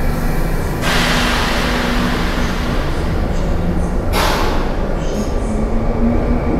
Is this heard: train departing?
yes